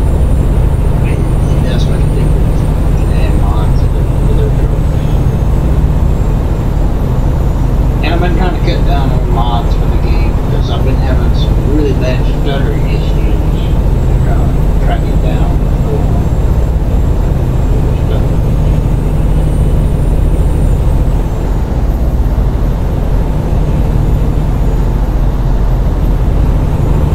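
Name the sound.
truck engine while driving, American Truck Simulator video game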